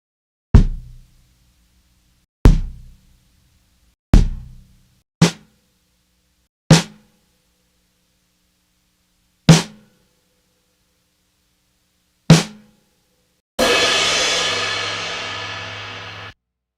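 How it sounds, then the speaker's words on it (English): Individual drum samples, kick, snare and cymbal hits recorded one by one after a drum session: seven sharp, separate strikes with short decays and clear gaps, then a loud cymbal crash ringing out and slowly fading. "every time I have a drummer cut drums, I have them do samples of everything at the end of the drums"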